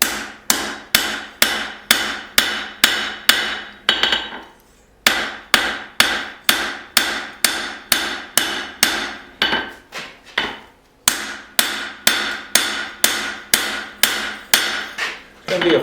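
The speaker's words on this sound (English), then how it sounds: "Alright, so I'm still forging out this blade." Hammer blows ring out on a hot steel knife blade being forged, a steady rapid rhythm of sharp metallic strikes with a few brief pauses, loud and close, with no talking.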